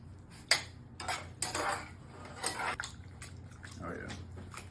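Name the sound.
mixing rigatoni with chili sauce in a pan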